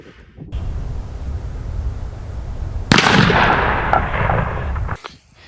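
A single loud, close shotgun blast at a turkey pattern test booms out suddenly over steady outdoor wind noise and rings briefly before cutting off.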